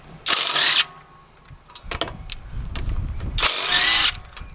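A DeWraf 20V cordless 1/2-inch impact gun removes a car wheel, giving two loud, close bursts of rapid hammering, a short one and then a longer one, with clunking handling noises between them.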